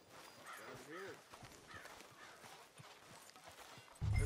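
Horse hooves clip-clopping at a walk on a town street in Red Dead Redemption 2, soft rhythmic thuds beneath ambient game sound and voices, ending in a louder thump.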